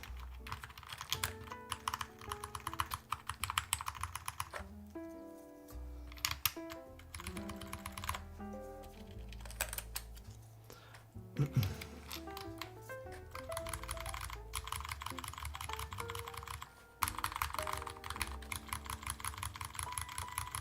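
Typing on a mechanical keyboard with ABS keycaps, a Schema M60 build, gives a fast continuous clatter of light keystrokes, close and alone, with a few brief pauses.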